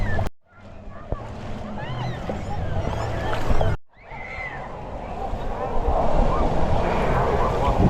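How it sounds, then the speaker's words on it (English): Small, frequent waves roll through the Typhoon Lagoon wave pool at a Disney waterpark, a steady wash of surf and splashing with wind buffeting the microphone and two brief dropouts. "So what's happening now, it's the small waves, but lots of them."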